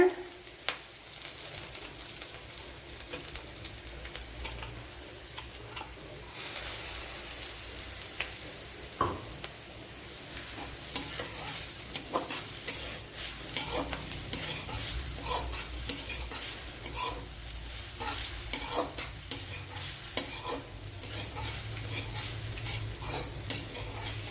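Grated coconut and crushed cumin stir-fried in a pan for a Kerala-style cheera thoran, with steady sizzling and repeated scraping, stirring clicks of a utensil close by, and no talk.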